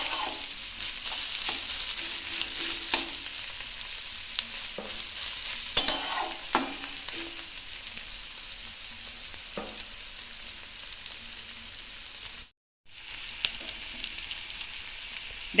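Bottle gourd peel frying in a pan, a soft continuous sizzle with intermittent scrapes and taps of a stirring spoon, fairly quiet and steady, with a short break near the end.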